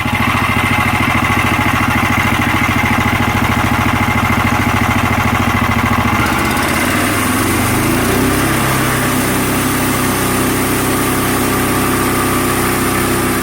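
A sawmill runs at full power while cutting a knotty hemlock beam, a loud continuous engine drone that shifts pitch partway through as the load changes, with no talk.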